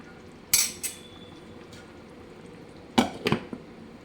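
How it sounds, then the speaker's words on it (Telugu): Chicken and raw mango gravy in a pot: a single sharp metal clank, a quiet pause, then a quick cluster of clattering knocks as a spoon strikes the rim and a lid settles on. "ఒకసారి కలుపుకుందాం కలిపి మూత పెడదాం"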